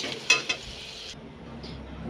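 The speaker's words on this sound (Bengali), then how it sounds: "আলুগুলো ভালো করে ভেজে নিয়েছি। এবার আলুগুলোকে নামিয়ে নেব।" Fried potato pieces in hot oil are stirred and lifted out of the pan, giving a soft sizzle with a couple of sharp utensil clinks early on, fading to a quiet low simmer.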